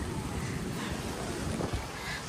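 Wind gusting outdoors near Ruifang Station in Taiwan, a steady broadband rush with low buffeting against the microphone and a brief stronger puff near the end, no talking.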